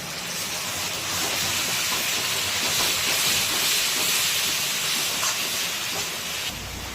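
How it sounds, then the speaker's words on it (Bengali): Ginger, garlic and dry chili paste hit onions frying in a pan for an oil-free chicken curry, giving a loud, steady sizzle and hiss that holds for several seconds. "তো এবারে দিয়ে দেবো এই আদা, রসুন আর শুকনো লঙ্কার পেস্ট"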